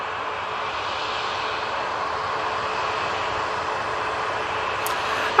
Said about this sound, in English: And there goes EasyJet, off to Murcia.